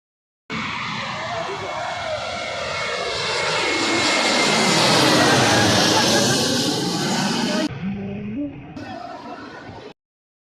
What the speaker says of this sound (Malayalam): ഞങ്ങൾ വ്യൂ പോയിന്റിൽ എത്തിയതും ഒരു പ്ലെയിൻ വരുന്നുണ്ടായിരുന്നു